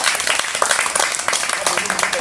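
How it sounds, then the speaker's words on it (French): Audience applause at an outdoor community gathering of a Congolese association, a dense, continuous patter of many hands clapping, fairly close, with voices mixed in underneath. "Allez, on va applaudir"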